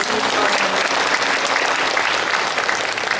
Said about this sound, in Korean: 영광의 박수 한번 드립니다.